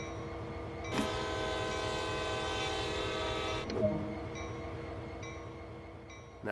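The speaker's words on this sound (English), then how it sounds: "make 2 blasts of the horn to alert anyone around" A locomotive horn in Train Sim World 2 on the Sand Patch Grade gives one long, loud, steady chord blast, then a brief second blast, over the low rumble of an idling engine.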